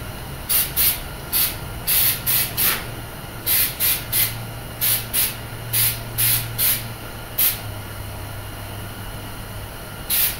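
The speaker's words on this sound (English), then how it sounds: "Spray the pedals." Short hissing bursts from a spray can coating bicycle pedals, repeated in an irregular rhythm over a low steady hum, close and fairly loud.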